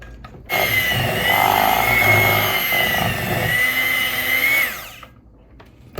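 An electric hand mixer whirs steadily through caramel cake batter with a loud, high motor whine. It starts abruptly, runs for about four seconds and then stops, and no one talks.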